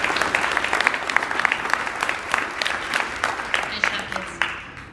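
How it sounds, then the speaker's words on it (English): Audience at a high school awards night applauds students, a dense crowd of clapping hands with sharp individual claps standing out, fading slightly toward the end. "Big round of applause for these kids."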